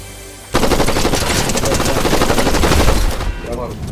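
Rapid automatic gunfire in the video game Fortnite rattles loud and close for about three seconds after a brief pause, with a player's voice in the background.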